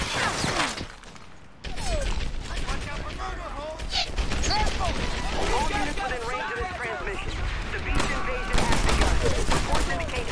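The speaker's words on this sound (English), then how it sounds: "Too many guns!" Gunfire from the World War II shooter Medal of Honor Airborne crackles in a dense, continuous fusillade of rapid shots and clattering impacts, with a player talking loudly over the battle.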